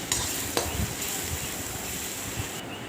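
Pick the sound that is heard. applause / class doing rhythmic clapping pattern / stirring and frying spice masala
stirring and frying spice masala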